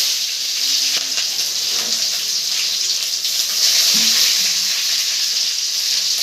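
Onions fry loudly in an oiled pan for a bitter gourd fry, a dense close-up sizzle that holds steady with faint stirring clinks, no talking.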